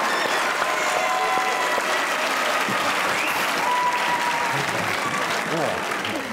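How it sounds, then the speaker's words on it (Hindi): A studio audience at a comedy talk show gives a long, even round of applause for an actress, thick continuous clapping with some voices mixed in underneath. "एक बार ताली हो जाए सनम सईद के लिए"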